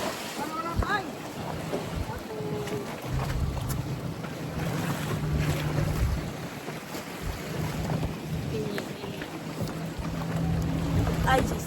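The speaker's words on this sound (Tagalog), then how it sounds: "Andito na yung bangka namin" Boat on the sea near an island resort, with a steady engine rumble and water wash under wind noise throughout, some faint distant voices mixed in.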